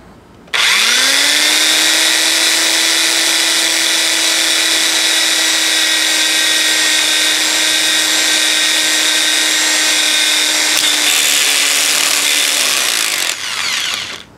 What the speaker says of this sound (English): how you drill through a stapler